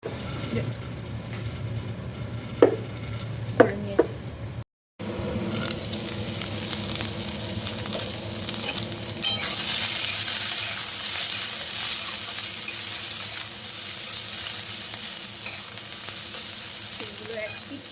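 Broad beans frying in a pan: a low sizzle with a few utensil taps, a brief cut to silence, then a louder, fuller sizzling hiss that carries on steadily to the end.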